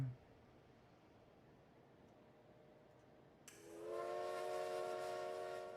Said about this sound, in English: South Simcoe steam locomotive's whistle